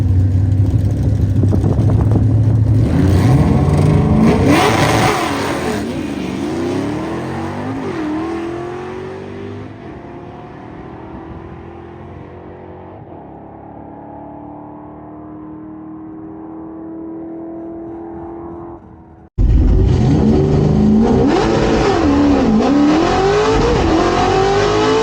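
A 1968 Torino GT drag car with a 302 small-block and T5 transmission making a pass, heard as loud revving and acceleration that climbs through the gears and fades into the distance, then a sudden loud engine roar right up close.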